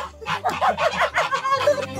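Chickens cluck loudly and close in a rural farmyard as they scatter and run off, a busy overlapping burst of squawks and clucks.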